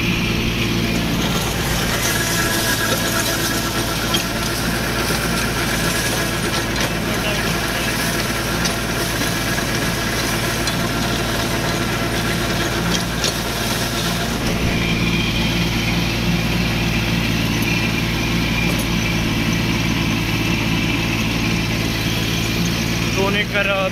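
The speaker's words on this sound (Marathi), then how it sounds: "शक्तिमानचा रोटावेटर आहे, मॅसी बरोबर 728 ट्रॅक्टर आहे।" A Massey Ferguson 728 tractor pulls a Shaktiman rotavator through a pigeon pea field, its engine droning steadily and close for the whole stretch while the blades churn and clatter, with a slight shift in tone partway through.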